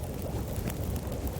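Wind blows steadily in The Long Dark survival game, a dense, loud, continuous rush with low rumble and no speech.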